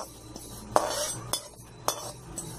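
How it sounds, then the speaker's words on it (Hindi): Mustard seeds and fennel seeds roasting in a kadhai for stuffed ridge gourd, heard as a faint background sizzle broken by several sharp metallic clinks of a spoon scraping and stirring the pan. "अब इसको हम भून लेंगे"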